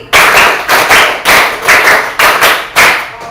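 Ten sharp hand claps in two quick groups of five, loud and close, with no talking between them.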